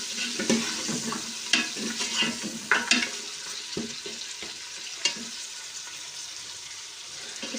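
Goat meat sizzles in a hot pan while being stirred and scraped, with steady frying crackle and irregular clacks of the spoon against the pan, close and moderately loud.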